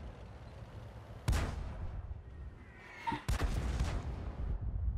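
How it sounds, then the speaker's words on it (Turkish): An artillery shell slams into a tank in World of Tanks, two sharp heavy impacts a couple of seconds apart, each with a rumbling tail, over a low steady engine drone. "Bizim adam da bir topçu vuruşu yedi."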